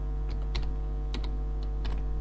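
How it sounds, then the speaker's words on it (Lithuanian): Computer keyboard typing in short bursts of keystrokes, a few clustered clicks at a time with brief pauses between, close and moderately loud over a steady low hum, no talking. "Rašome tą tekstą, aš parašysiu funkcijos pavadinimą."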